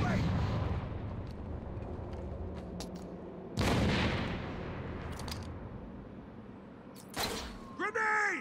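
Grenade blasts in the video game Gotham Knights, loud booming explosions with decaying rumble, two main blasts several seconds apart amid combat noise, and a voice shouts at the end.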